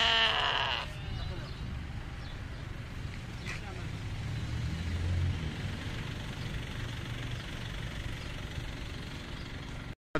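Naimi sheep bleating at a Saturday livestock auction in Buraydah, a loud bleat near the start over an idling engine, with people talking throughout.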